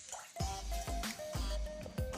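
Washed, soaked basmati rice slides into a pot of water in several quick plops and splashes, close and fairly quiet, with a faint tone underneath.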